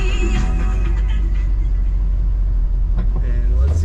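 A 1985 Chevrolet C10 pickup drives on the road with a loud, steady low engine rumble and road noise throughout, and a voice is faintly audible over it.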